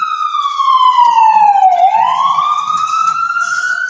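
A loud ambulance siren wails continuously close by, its pitch sliding down and then rising again, with traffic rumbling faintly underneath.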